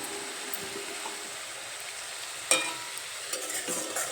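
Masala spice paste frying in oil in a pan for a papaya and masoor dal dish, a soft, steady hiss of sizzling with one sharp clink midway and light stirring near the end, fairly quiet.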